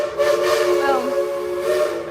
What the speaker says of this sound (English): I hear the train, but I don't see it.